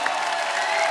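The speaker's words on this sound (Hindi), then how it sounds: "एक बार जोरदार तालियां हमारे मेहमानों के लिए।" Loud, sustained clapping from a TV studio audience applauding the show's guests, a thick, even roar of many hands with faint cheering woven in, close and continuous throughout.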